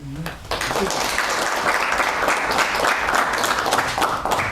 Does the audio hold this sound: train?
no